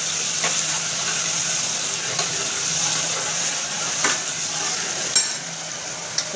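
Chopped tomatoes fry in oil in a pan, a soft steady sizzle with a few sharp clicks of a spoon scraping and stirring, moderately close and fairly quiet.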